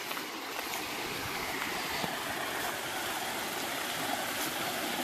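Water in a stream at Sapphire Falls rushes in a steady, even wash of noise, close and constant throughout with no talk.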